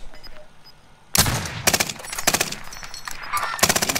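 Bursts of rapid gunfire in a battle royale game, loud and close, coming in several short volleys separated by brief pauses after a quiet start.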